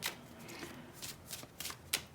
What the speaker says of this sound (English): I'm shuffling the Higher Love Oracle cards.